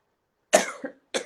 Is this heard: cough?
yes